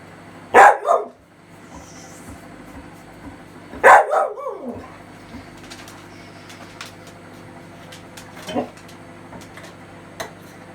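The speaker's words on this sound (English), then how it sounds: "In case you've noticed that's my dog." A pet dog barks in a kitchen while eggs are fried in a pan: two loud close bursts of barking a few seconds apart, then a softer single bark later, over a quiet hum.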